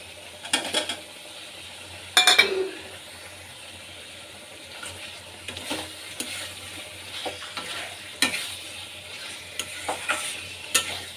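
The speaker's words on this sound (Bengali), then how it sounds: "এবার আলুটা দিয়ে দেবো।" Potatoes added to a spiced fish-head and tail curry in oil, stirred in the pan: intermittent scraping clatter of a utensil against metal over a low sizzle, with a louder clank early on.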